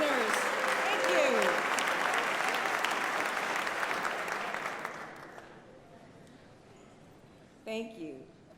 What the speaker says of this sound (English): I'm glad you're cheering for our Nobel winners